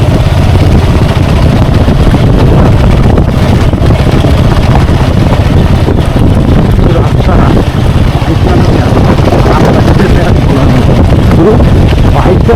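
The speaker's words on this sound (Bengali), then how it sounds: "খুব আরাম লাগছে বাইক চালাতে।" A motorcycle rides along a smooth rural road in Nadia, with heavy wind buffeting and a steady engine drone filling the whole stretch, loud and close throughout.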